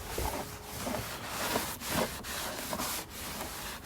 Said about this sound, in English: and just give it a rub